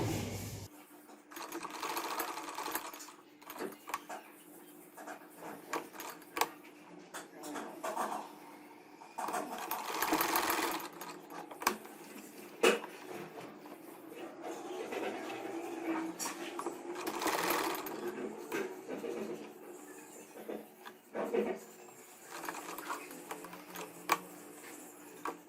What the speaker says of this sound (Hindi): बिल्कुल एज पर रखकर मैं इसको सिलाई लगा रही हूँ।